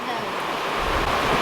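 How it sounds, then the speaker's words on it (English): Heavy rain pours off a barn roof in a steady sheet of water, a loud continuous rushing wash heard up close, with a bit of wind noise and no clear talk. "Don't stand out in the rain"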